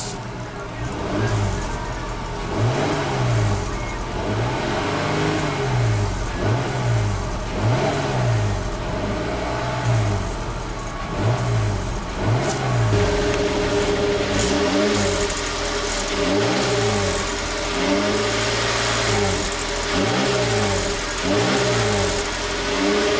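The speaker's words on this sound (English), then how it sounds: "let's go ahead and rev up the Cherokee, see how that V6 sounds" 2014 Jeep Cherokee Limited with a 3.2 L V6 engine being revved while parked, repeated rising and falling revs in a steady rhythm over a low idle, close and fairly loud.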